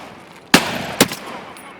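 Two sharp gunshots crack about half a second apart in the Escape from Tarkov PvE Reserve map, fired by a scav at the player, moderately loud against a quiet background.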